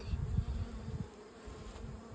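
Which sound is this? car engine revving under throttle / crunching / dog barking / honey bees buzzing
honey bees buzzing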